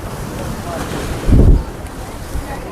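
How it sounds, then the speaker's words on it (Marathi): Sea waves crash and splash near Haji Ali Dargah in Mumbai, a steady windy roar of surf with one louder low surge breaking close by midway. "समुद्राचे किती लाटा यायला लागल्या या ठिकाणी. या ठिकाणी पूर्ण लाटा पाणी कसं उडायला लागले."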